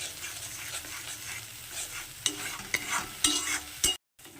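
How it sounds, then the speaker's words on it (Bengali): Peanuts being sautéed in a little oil, a low sizzle under steady stirring, followed by a few sharper scrapes and taps of the spoon against the pan near the end before a brief cut to silence. "দেখুন বন্ধুরা বাদামটা পুরো কষানো হয়ে গেছে"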